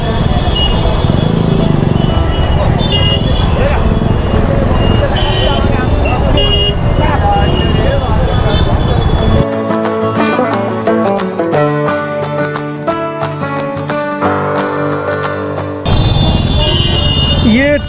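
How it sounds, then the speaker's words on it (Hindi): Dense road traffic in an Indian town near a railway crossing, a loud wash of engines with repeated horn toots, and a stretch of busier honking and clatter in the middle. "ट्रैफिक का समुंदर पार करके मैं जा रहा हूँ।"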